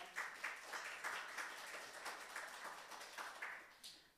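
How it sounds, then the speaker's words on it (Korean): A church congregation at a Sunday worship service welcomes a young member forward with soft applause. Distinct claps rise and fall in small bursts for about four seconds, heard faintly from a distance. "우리 박수로 환영합시다."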